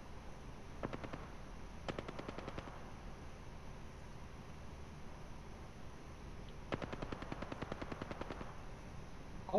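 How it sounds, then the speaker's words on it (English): Automatic gunfire in Apex Legends, several quick rattling bursts of rapid shots separated by pauses, fairly distant and faint over low background noise. "I'll waste all my ammo shooting at you, bro"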